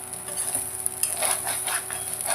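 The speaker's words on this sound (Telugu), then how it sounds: "ఇలా ఫ్రై చేస్తున్నామంటే కొంచెం నీట్గా బాగుంటుంది" Small fish frying in a pan in a home kitchen, a steady crackling sizzle with occasional stirring scrapes and light clinks, close and continuous, no voices.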